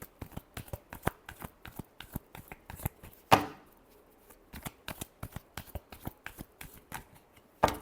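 Tarot cards being shuffled in a steady run of crisp riffling snaps, with one louder burst of cards slapping together midway, close and clear with no talking.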